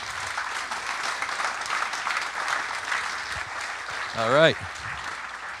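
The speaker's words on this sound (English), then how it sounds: "So give all of those people a round of applause," Conference audience applauding at a robotics event's closing session, a moderate, even clapping from a seated crowd, with a brief spoken voice near the end.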